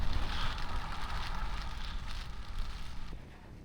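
Strong wind blows outdoors on the Isle of Skye, buffeting the microphone with a constant loud rushing roar, no voices, easing slightly at the end.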